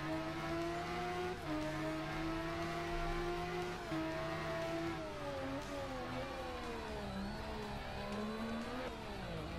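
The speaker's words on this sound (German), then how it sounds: "wir haben ja ein sehr leistungsstarkes Motorrad" An MV Agusta F3 675 motorcycle in the Ride racing video game, its engine droning steadily at high revs with pitch rising and dipping through gear changes and corners, continuous and fairly faint.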